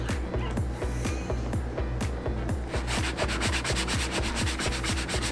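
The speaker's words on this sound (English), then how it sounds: "Now we're gonna take in 80 grit sandpaper and flatten that part out." Rhythmic rasping of 80-grit sandpaper rubbed back and forth by hand, quick regular strokes close up, speeding up toward the end.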